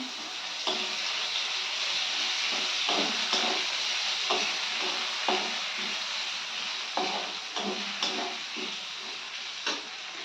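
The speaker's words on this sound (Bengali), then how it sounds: "এদিকে বিউলির ডালে ফোড়ন দিয়ে দিলাম" Tempering spices sizzle loudly in hot oil as they go into a pot of biuli dal (urad dal), with a steady frying hiss throughout and occasional clinks of stirring.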